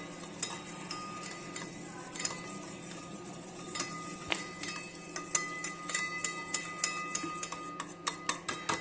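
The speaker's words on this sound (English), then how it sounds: "I'm going to start by whisking the curd." A whisk ticks steadily against a bowl of curd being beaten for Punjabi kadhi, light metallic clicks that quicken into a brisk, evenly spaced rhythm near the end, close and fairly quiet, with no talk.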